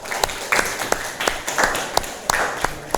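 Students in a classroom give a short round of applause for the second group, sparse, scattered claps with distinct sharp hits over light background noise.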